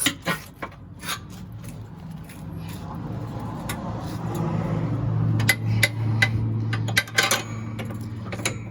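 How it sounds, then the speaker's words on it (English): A big screwdriver scrapes and clanks against the metal deck of a John Deere E100 riding mower as it is pried upward, giving sharp close metallic knocks over a low engine-like hum. "So I'm just using a big screwdriver so I can get underneath it."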